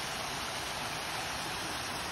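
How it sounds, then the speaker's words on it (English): A waterfall runs down a hillside in a gated community with a steady, even rush of falling water. It stays moderately quiet and unchanging and has no other sounds over it. "Luscious waterfall going all the way up"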